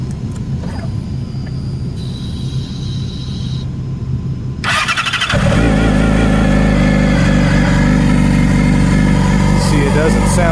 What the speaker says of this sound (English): It doesn't sound too bad when you start it up, just at idle, but you can kind of hear something